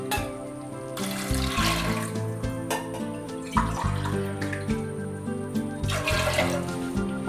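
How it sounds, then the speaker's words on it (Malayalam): Water is poured from a glass into soaked chickpeas in a pot for Kerala-style kadala curry, a steady splashing pour in two bursts, close and moderately loud, with no talking. "അതിനകത്തേക്ക് 2 ഗ്ലാസ് വെള്ളം ഒഴിക്കുക."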